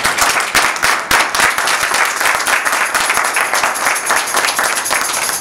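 A church congregation at a French-language sermon bursts into steady, dense applause, many hands clapping loudly and close for several seconds without talk.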